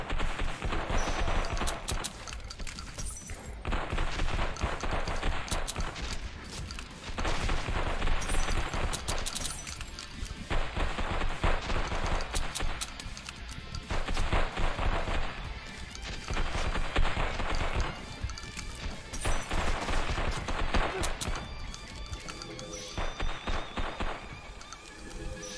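Sustained gunfire in the Final Force video game, dense bursts of rapid shots running continuously and loudly throughout, with brief dips between volleys.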